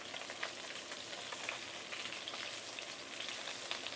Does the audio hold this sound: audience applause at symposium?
no